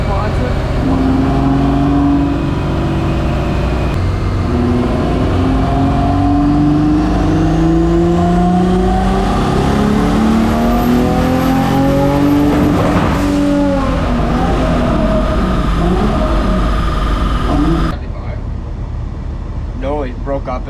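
A twin-engine Suicide MX3 running on 94 pump fuel revs hard on a dyno, a loud, sustained engine roar climbing steadily in pitch for about eighteen seconds before cutting off to a quieter hum.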